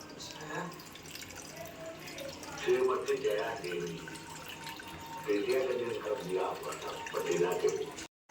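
Water from a tap runs and splashes steadily nearby while a person talks over it.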